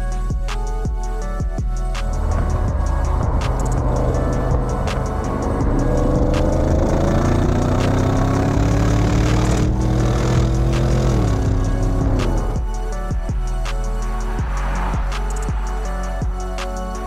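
The 600 hp Audi RS6 rumbles at idle, then its engine note rises steadily as the car pulls away and accelerates, settling back to a lower drone; loud and close from inside the car.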